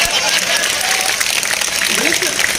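Audience clapping at a Hindi comic poetry recital at Janta Ganj Mandi, Rajnandgaon, a steady crowd wash under a performer's continuing talk.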